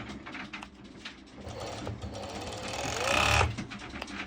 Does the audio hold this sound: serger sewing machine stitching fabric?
yes